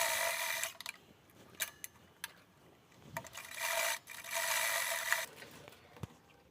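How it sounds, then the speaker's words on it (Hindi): A sewing machine stitches along the folded zip edge of a handmade handbag, running in bursts of fast rattling whir separated by brief pauses and small clicks. "तो चलिए सिलाई लगा लेते हैं।"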